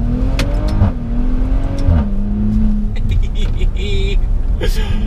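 A Maserati SUV, developed with Ferrari, revs hard with its exhaust barking and crackling, the engine note climbing and dropping through several blips, close and loud, with a voice talking over it.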